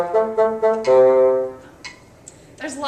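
Solo bassoon runs a few even, straight 16th notes and then sustains a longer tone, close and clear, followed by brief quieter sounds.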